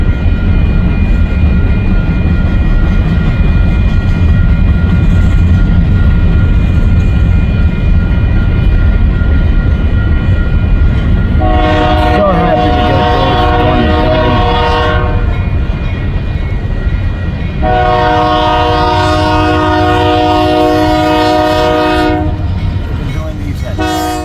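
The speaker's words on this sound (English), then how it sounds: "Here comes the Union Pacific move of the Via Rail train." A Union Pacific locomotive moves a brand new VIA Rail Canada passenger train past with a heavy, steady diesel rumble and rolling wheel noise, as its horn sounds two long loud blasts.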